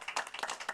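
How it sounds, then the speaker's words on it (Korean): A congregation in a Korean church service claps at a brisk, uneven pace, with a handful of distinct hand claps close together over less than a second. "박수를 힘차게 쳐주십시오."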